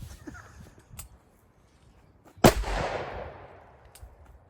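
A single loud, sharp gunshot from a Troy AR rifle firing 193 rounds outdoors during multi-caliber penetration tests on a tree, ringing off in a long decaying echo, with faint ambient noise and clicks before and after.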